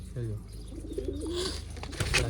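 Pigeons cooing close by: soft, throaty repeated coos rise and fall across the whole stretch, with people talking alongside and some rustling toward the end.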